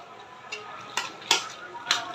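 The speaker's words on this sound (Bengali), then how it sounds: "নাড়াচাড়া দিয়ে দিব," Beef liver is stirred in a pan with a utensil, giving four separate scraping clinks spaced about half a second apart over a faint background hiss.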